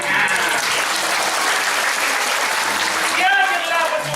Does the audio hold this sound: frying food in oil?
no